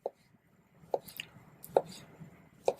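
A knife slices finely through sous vide grapes vacuum sealed in a bag, giving four sharp, evenly spaced chops on a cutting board, close and fairly quiet with light rustling in between.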